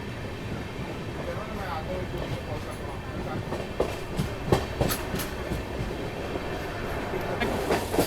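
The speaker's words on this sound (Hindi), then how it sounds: "और 2 मिनट के बाद निकल रही है अपनी ट्रेन" A train pulls out of a busy railway station, a steady rolling rumble with occasional sharp metallic clacks and squeals building toward the end.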